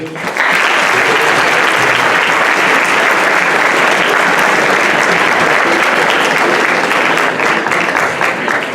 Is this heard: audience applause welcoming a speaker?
yes